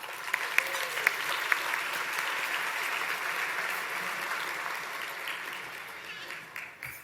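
Broad, continuous applause fills the room at a member awards ceremony, a few sharp individual claps standing out early before the sound tapers off near the end.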